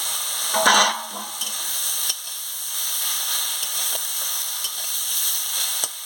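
Pumpkin leaf paste cooking in a pan, a steady hissing sizzle with a few scraping stirs and light knocks, close by with no voices.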